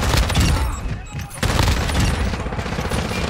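Dense, continuous gunfire and bursts in Call of Duty: Modern Warfare II, loud and close throughout with a brief dip partway, while players talk over the shooting.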